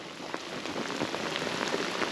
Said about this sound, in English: Righto guys, as you can see, a little bit of rain about.